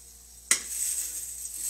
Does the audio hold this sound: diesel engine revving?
no